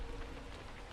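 Steady rain falling in the video game Assassin's Creed Shadows, a dense continuous hiss of drops with no voices.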